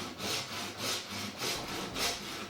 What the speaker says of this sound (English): You want to mark it quite a few places so you can keep the saw straight as you're coming down.